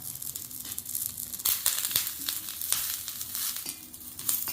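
Curry leaves sizzle and crackle in hot oil with chana dal in a pan, a steady close frying hiss broken by sharp pops and spatters, with no voices.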